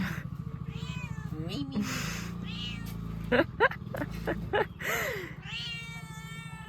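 A cat meows repeatedly in drawn-out, wavering cries indoors, close and loud, while a person speaks briefly over a constant low hum.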